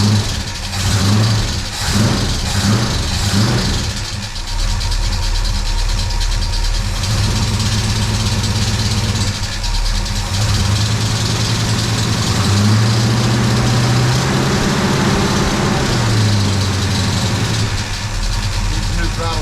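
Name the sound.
68 Chevy C-10 truck engine idling after motor swap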